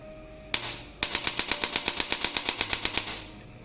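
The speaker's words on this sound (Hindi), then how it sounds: "तो ये था एक छोटा सा डेमो स्पाइन एडजस्टर गन का।" A chiropractic spine adjuster massage gun rated 1100N runs on its third mode at power level 13, firing a rapid, even train of sharp mechanical thumps after a brief start, close and loud.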